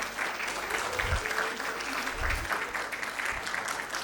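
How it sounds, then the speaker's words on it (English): An audience at a film festival inaugural ceremony applauds the core team, with fairly soft, continuous clapping and a few dull low thumps scattered through. "Let's have a huge round of applause."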